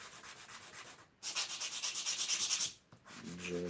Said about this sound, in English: When you remove the first side, you sand a little bit